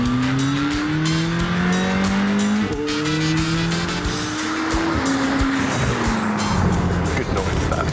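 A petrol race car engine screams past at high revs, rising and falling through gear changes with tyre noise, steady and loud throughout.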